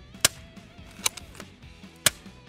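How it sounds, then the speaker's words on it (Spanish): Three sharp, snappy cracks from a fly-killing gun ring out at uneven intervals against quiet background chatter, sounding close and crisp. "Aprietas el gatillo, dispara."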